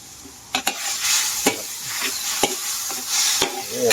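Kaphrao (holy basil) stir-fried in a pan over a wood fire: a steady loud sizzle with repeated sharp scrapes and clanks of the spatula against the pan at an irregular rhythm, close up, no talking.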